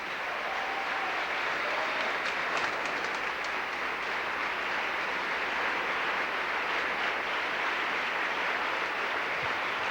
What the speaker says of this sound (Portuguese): Aplaude, para valer.